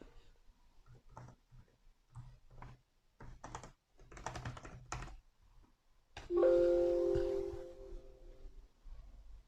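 Typing on a computer keyboard to enter a message in an online class chat box: bursts of soft, close key clicks in short groups, followed by a brief notification tone and a low hum.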